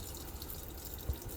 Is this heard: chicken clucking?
no